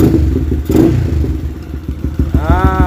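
A modified motorcycle with a Uma Racing head block idles with a steady low rumble, then briefly revs up near the end, the pitch rising sharply. Close and fairly loud, no talking.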